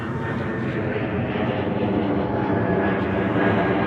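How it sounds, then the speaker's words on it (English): Air Baltic Airbus A220 passing overhead at London Gatwick, a steady moderate engine roar with faint whining tones, fairly constant and slightly building toward the end, no speech. "Air Baltic A220"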